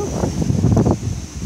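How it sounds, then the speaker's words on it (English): Gusty wind buffeting the microphone outdoors in low rumbling bursts, a brief moment with no voices. "It's really windy."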